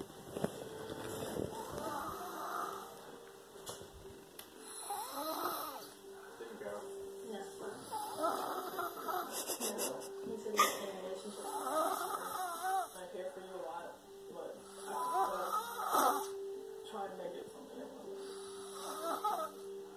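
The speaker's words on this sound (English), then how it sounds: "I just want you to see how loud he's snoring." A five-year-old boy snores loudly and steadily in a home with a TV playing, each long rasping breath repeating over roughly twenty seconds while people talk quietly nearby.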